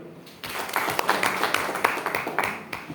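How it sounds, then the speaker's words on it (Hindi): A crowd claps together in a sustained, dense burst of applause that starts after a brief pause and continues steadily to the end. "ताली बजाओ"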